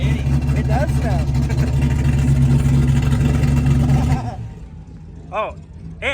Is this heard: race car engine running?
yes